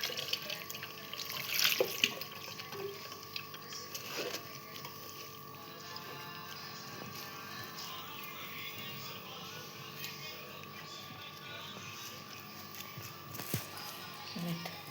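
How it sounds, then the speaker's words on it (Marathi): Potatoes washed in a mesh sieve under a running kitchen tap, water flowing and dripping fairly faintly with occasional clatter, a voice speaking in between. "इथे आपण जाळी घेतलेले, त्यात धुवून घेऊया"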